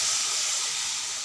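Tomato and green chili paste fries in hot oil with a steady, loud sizzling hiss that runs unbroken throughout, close up and with no voices.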